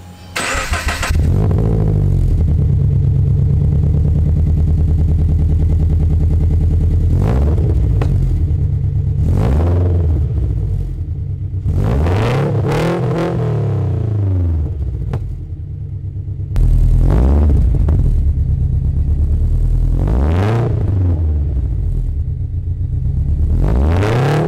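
A Subaru BRZ / Scion FR-S engine with an aftermarket over-pipe exhaust starts up. It then gives a series of loud, close revs that rise and fall, separated by short idle stretches.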